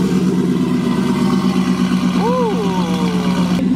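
A car engine on 26-inch wheels idles with a steady low rumble through its exhaust, then briefly revs up and settles back down near the end, loud and close.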